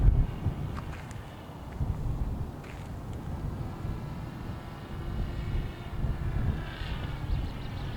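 A Blade Manta RC flying wing from Immersion RC makes a pass overhead, its faint motor whine fading as the throttle is cut, heard at a distance under steady wind buffeting the microphone.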